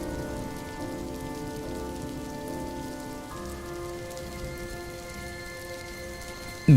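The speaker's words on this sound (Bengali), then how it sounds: "বৃষ্টিটা দেখছি আরো বাড়ছে। আষাঢ়ের বৃষ্টি সহজে কমে না।" Heavy monsoon rain pours steadily onto surfaces as a dense, even hiss, with faint tonal hum in the background and no voices.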